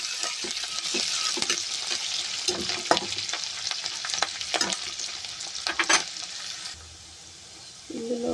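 Onion and curry leaves frying in a pan while being stirred for a moringa chicken curry, with steady sizzling and repeated scraping strokes of a spoon against the pan, close and fairly loud before easing near the end.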